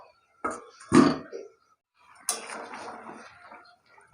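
A lid clatters onto a curry pot of vegetarian cauliflower, potato and tomato curry: two sharp metallic knocks, then a longer scraping rattle as it settles, close by and otherwise quiet.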